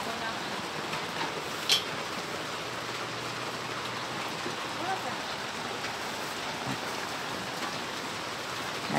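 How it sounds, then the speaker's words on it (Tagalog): Steady rain hisses down in Concepcion, Tarlac as a dense, even wash of drops with occasional louder splashes, and a voice speaks faintly underneath. "It's raining, it's raining."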